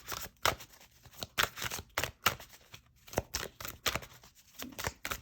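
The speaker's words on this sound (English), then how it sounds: "some people want to have the cards shuffled in front under the camera" Playing cards are shuffled repeatedly close up, crisp riffling bursts and soft snaps coming in quick rhythmic waves.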